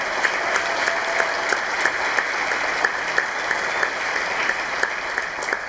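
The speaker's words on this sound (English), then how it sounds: "give a very loud round of applause for their leadership" A loud, steady round of applause fills an awards ceremony hall as sponsors stand, a dense sustained clapping from a large audience with sharp individual claps standing out, no talk over it.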